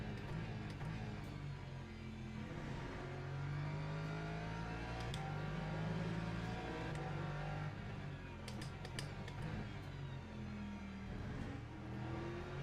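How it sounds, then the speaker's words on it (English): Hypercars passing during a Le Mans race in a driving game, layered engine whines rising and falling in pitch as cars sweep by, heard steadily under in-game engine drone with no talking. "Oh, the hypercars come through already?"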